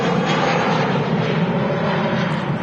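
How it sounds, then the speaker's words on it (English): An airliner on final approach at Manchester Airport makes a loud, steady engine roar and rumble that holds without pause throughout. "Got 3 aircraft on final approach at the moment."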